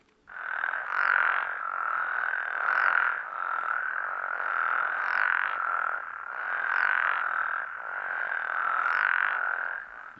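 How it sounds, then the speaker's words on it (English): A healthy frog and toad chorus near Mono Lake, just east of Yosemite in California: a dense, continuous mass of croaking with steady pulsing swells, moderately loud and unbroken, with no voices. "this is a spectrogram of what the frog chorusing looks like when it's in a very healthy pattern"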